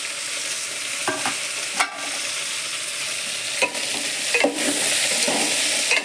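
Food fries in a hot pan on the stove with a continuous loud sizzle and a few stirring scrapes, close by and with no voices.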